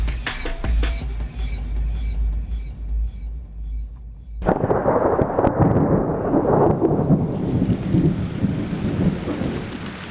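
Heavy rain pours down in the high equatorial Andes with a steady, loud hiss, and a deep rumble of thunder rolls underneath. There is no talking.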